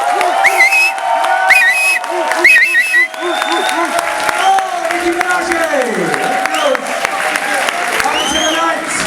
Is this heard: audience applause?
yes